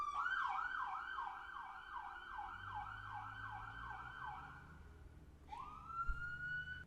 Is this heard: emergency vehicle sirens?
yes